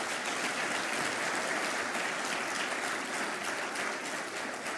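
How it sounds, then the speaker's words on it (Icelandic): A hall audience claps at a political party conference speech given by the party chairman and prime minister. The applause is a steady, full-bodied roar with no voices over it. "Og við skulum líka klappa fyrir fyrrverandi formanni"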